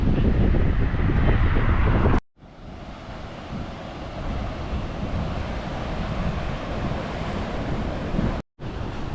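Ocean surf rolls in at Tamarack State Beach in Carlsbad, California, a loud, continuous wash of breaking waves heavily buffeted by wind on the microphone, with two brief dropouts.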